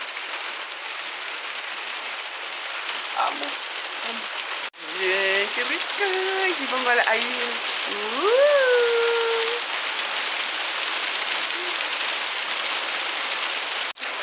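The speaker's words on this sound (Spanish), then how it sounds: "Me encanta la lluvia." Steady rain falls outdoors as a continuous soft hiss throughout, with someone talking over it and a brief howling or whining tone partway through.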